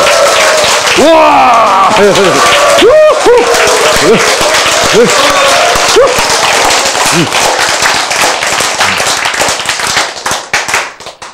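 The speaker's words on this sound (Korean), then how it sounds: "여러분이 이렇게 박수를 치고 함성을 지르고" Audience at a lecture on choice and genes claps and cheers loudly, with whoops and excited shouts rising over dense, sustained applause that fades toward the end.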